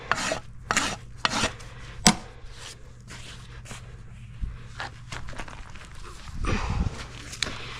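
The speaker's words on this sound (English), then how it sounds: "Just enough that I can rasp it." A farrier's rasp files a horse's hoof in a series of rough, scraping strokes, several sharp bursts early then quieter rubbing, close up, with light shuffling and movement in between.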